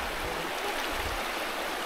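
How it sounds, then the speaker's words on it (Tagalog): Rushing forest stream water in a steady, loud broadband roar, continuous and close, with no other sounds. "yung tubig na rumaragasa"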